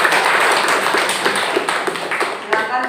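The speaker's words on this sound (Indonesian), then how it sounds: "Tepuk tangan untuk kelompok" Classroom students clapping for a presenting group, a steady, fairly loud patter of many hands with some sharper individual claps standing out near the end.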